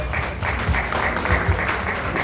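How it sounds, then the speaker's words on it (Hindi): An audience at a Canadian TV programme event applauds a newly named chief operating officer, a dense sustained wash of clapping from many hands filling the room at moderate loudness. "तालियां प्लीज"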